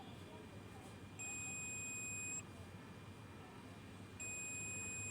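A multimeter on a continuity test gives two steady high beeps, each about a second long, separated by a pause. They sound over a quiet background hiss during the repair of a Yamaha RX-V457 AV receiver.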